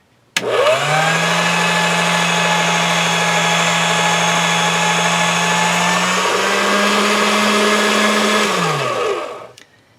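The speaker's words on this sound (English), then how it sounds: "I'm going to put it in my pasta machine at a number 5." A motorized pasta machine rolling polymer clay at setting 5 hums steadily at close range for several seconds, its droning pitch dipping slightly midway, then winding down and stopping.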